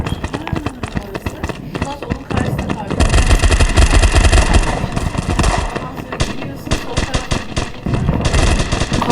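Gunfire from a weapon in a World War 2 video game, rapid bursts of loud automatic shots in clusters with brief pauses, mixed with game effects while someone talks over it.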